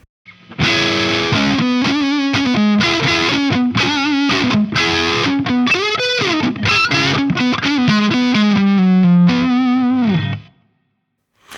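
Electric guitar through a DiBiQuadro JupiterXTC on its modern voicing with high-gain distortion, playing a dense, saturated riff of chords and single notes for about ten seconds before stopping abruptly.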